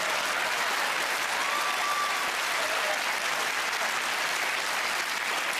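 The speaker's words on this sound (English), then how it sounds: "Why are we applauding them?" A game-show studio audience applauds with steady, dense clapping throughout, without any break.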